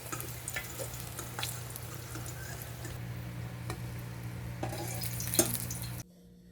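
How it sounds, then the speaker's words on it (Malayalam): Chicken burger patties fry in a pan for a Korean street-food style burger, giving a soft, steady sizzle that runs evenly for about six seconds and then cuts off. "അപ്പോൾ നമ്മുടെ ബർഗറൊക്കെ അപ്പോൾ നന്നായിട്ട് ഫ്രൈ ആയിട്ടുണ്ട്, റെഡി ആയി കഴിഞ്ഞു."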